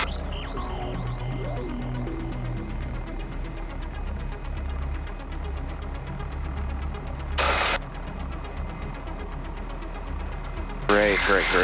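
An MD530F helicopter hovers with a steady, loud low throb and rotor beat under cockpit radio noise, with brief bursts of noise partway through and near the end.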